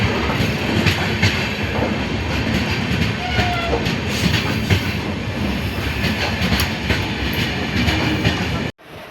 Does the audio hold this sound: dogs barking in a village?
no